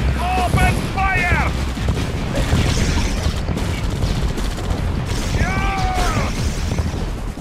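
Units in Red Alert 2 Yuri's Revenge open fire in a loud, dense stream of gunfire and booms that fills the whole stretch, with short electronic voice lines rising above it.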